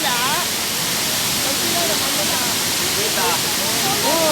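The first of the seven falls at Lake Sebu roars as a steady, dense wash of rushing water, close and unbroken, with voices talking over it.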